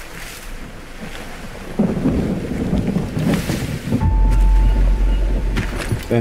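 Stormy weather in the survival video game Green Hell: a steady wash of rain and wind that swells partway through, with a deep rumbling surge near the end, like thunder rolling in, loud and without speech.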